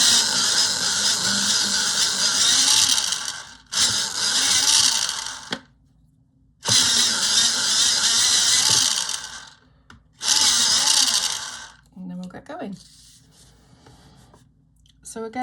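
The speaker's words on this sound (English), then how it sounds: "So I'll give them a quick sharpen." Colouring pencils sharpened in four long buzzing bursts separated by short pauses, loud and close, with a few quieter clicks and handling noises at the end.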